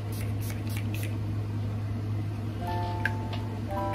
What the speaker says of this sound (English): Water setting spray. I'm going to be using this to set my face.